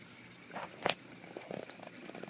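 An aquaponics bell siphon drains water from a grow bed with faint gurgling and bubbling, including a sharper sucking burst near the middle and scattered softer glugs, heard quietly up close.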